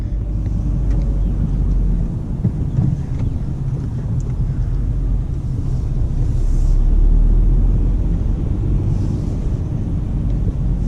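A manual-transmission car drives along, its steady low engine rumble running under wind noise with a faint unevenness where the engine starts to stutter.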